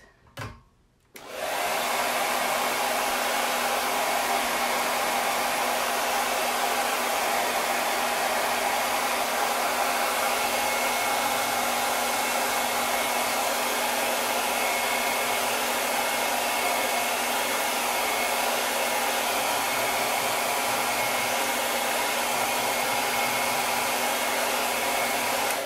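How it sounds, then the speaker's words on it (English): A hair dryer blows steadily on a chalk-painted sign, starting after a brief pause and then running as a loud, unbroken whoosh with a constant motor hum for the rest of the clip. "so I'm going to blow dry this"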